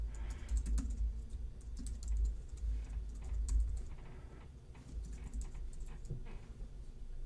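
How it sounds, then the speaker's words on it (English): Fingers tapping out a password on a computer keyboard, a quick run of soft, close keystroke clicks over a low room hum, with no speech. "You want to type a password in here"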